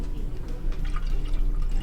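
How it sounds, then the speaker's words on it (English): An older red wine trickles slowly from the bottle into a decanter, a soft continuous liquid pour with faint dripping, close and steady throughout. "you can see the wine as it's being poured through"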